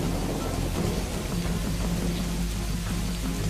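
Steady rain from a Kalbaishakhi storm in Bengal, a dense continuous hiss with a low, rumbling thunder undertone throughout, no voices.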